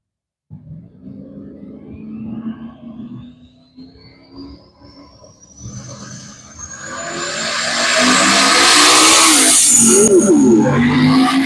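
Drag racing cars, including a 1967 Chevrolet C10, launch and accelerate down an eighth-mile strip, engines building from a rumble to a loud, sustained roar as they pull away.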